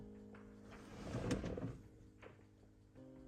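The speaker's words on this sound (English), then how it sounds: "Let me open the door," Car door being opened from inside a vehicle, a soft latch click and muffled thump with brief rustling, quiet and close, followed by a steady low hum.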